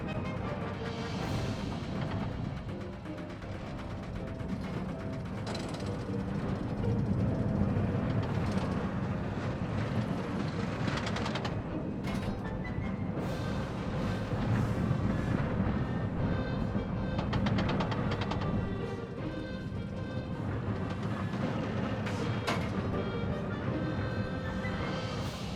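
A ride on the Monster roller coaster in the Planet Coaster video game: a steady rolling rumble of cars on track with rushing wind, swelling and easing over the run as music plays along, no talk.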